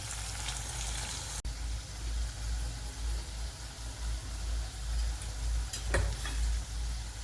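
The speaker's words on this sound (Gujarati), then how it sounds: "ધીમા તાપે ચડવા દેવાના. થોડી વારે હલાવવાના." Food sizzling steadily in oil in a pan over a low flame, with occasional stirring scrapes and one sharp click, a continuous close frying hiss throughout.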